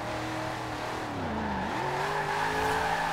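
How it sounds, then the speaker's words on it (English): A car power sliding in the racing video game Forza Horizon 4, its engine note sweeping down then climbing again over steady tyre noise, loud and continuous throughout. "Oh, power sliding like a boss."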